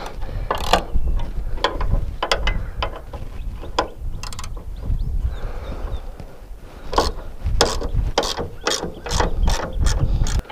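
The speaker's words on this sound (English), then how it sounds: "now we're gonna come over here and loosen off the hood bolts themselves" A ratchet loosens the hood bolts on a 1993 Mustang, sounding as bursts of rapid clicking that stop and start repeatedly, close and fairly loud.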